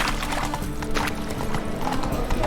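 The horse Roach in The Witcher 3 video game, with steady clip-clopping hooves at a walking pace, close and fairly quiet under low ambient game sound.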